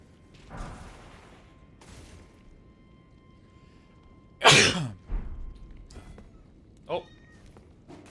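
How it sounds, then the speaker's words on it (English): A single loud, sharp sneeze bursts out near the middle, standing above quiet room tone and a steady faint hum, with a few softer short cat-like noises and light sounds before and after. "that sneeze was a powerful sneeze"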